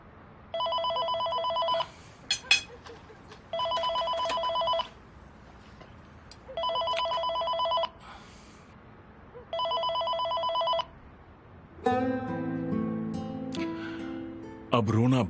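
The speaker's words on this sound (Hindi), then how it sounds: "फोन मत उठाओ। हो सकता है कुछ जरूरी हो।" A telephone rings in four regular bursts of electronic trilling, each lasting about a second with short gaps between, followed by a louder distressed vocal sound.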